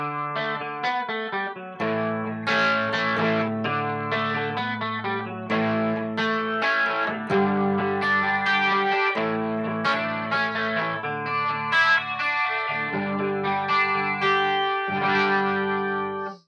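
A guitar runs through a 12-string emulation effect on a Line 6 HX Effects unit, giving a chorus-like doubled shimmer. Strummed chords and picked notes ring out steadily and alone.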